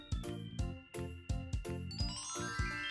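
A phone ringing with an incoming call: a bright, repeating chime melody of tinkling bell-like notes in a steady rhythm, close and clear with no talking.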